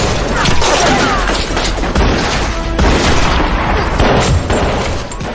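Dense, loud bursts of shootout gunfire crackle and boom continuously, apparently imitated by a voice rather than real weapons.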